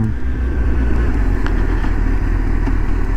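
A Kawasaki Z1000 motorcycle is ridden along country lanes, its engine droning loud and steady up close with a constant low rumble and rushing wind.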